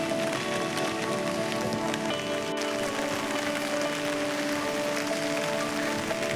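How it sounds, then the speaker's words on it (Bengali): Steady rain falls near Umiam Lake on the road to Shillong, an even, dense patter that stays constant from start to finish, with no talking. "বৃষ্টি হচ্ছে"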